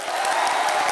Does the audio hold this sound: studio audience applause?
yes